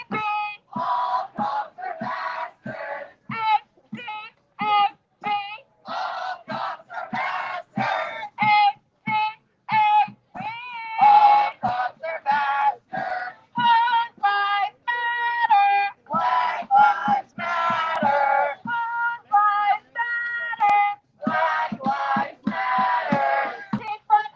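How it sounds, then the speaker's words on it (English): A crowd chants during a nightly protest march in Seattle, WA: loud, rhythmic shouted phrases repeat steadily throughout with short gaps between each burst. "I love the crowd."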